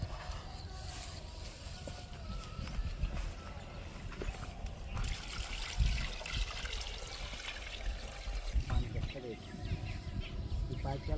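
Water from a new shallow-machine pump pipe runs steadily into an onion field, a continuous outdoor wash of flow nearby with people talking over it.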